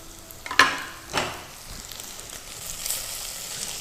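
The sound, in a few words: garlic frying slowly in lard in iron skillet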